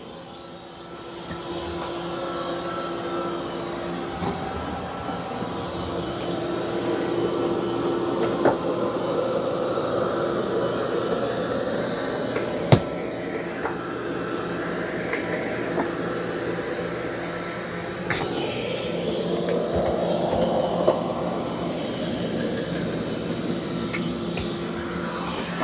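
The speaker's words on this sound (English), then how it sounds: "So it's not doing the best job vacuuming." A Narwal Freo Z10 Ultra robot vacuum cleaning a floor, producing a steady, continuous motor whir and hum with a few faint clicks, close and moderately loud, with no talk.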